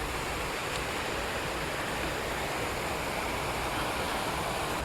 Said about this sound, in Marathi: हा असा इथं पण पाण्याचा झरा आहे बघा, असं पाणी पडतं, सुंदर पाणी पडतंय